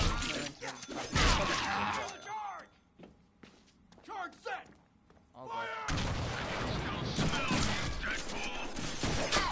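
Gunfire in the Deadpool video game, bursts of rapid shots and impacts mixed with footsteps and game audio, with voices talking throughout.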